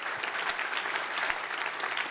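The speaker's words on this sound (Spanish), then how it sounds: "Dale un aplauso al Señor." A church congregation applauds together, steady dense clapping that fills the clip from start to end at an even level, with no voices standing out.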